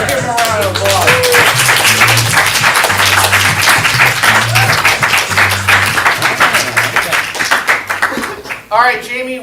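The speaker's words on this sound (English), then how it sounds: "Let's give them a round of applause." An audience at a ComedySportz comedy improv show claps a team onto the stage. The applause is lively and sustained, mixed with people's voices and a low musical hum, and it thins out toward the end.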